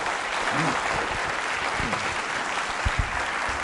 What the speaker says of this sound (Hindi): तालियां बजाइए डॉक्टर साहब के लिए